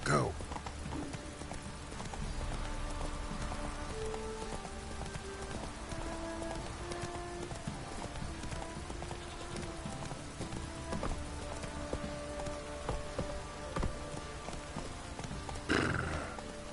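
The horse Roach gallops in The Witcher 3 with steady, rhythmic hoofbeats under a wash of rain. A neigh sounds near the end, and a voice talks over the scene at times.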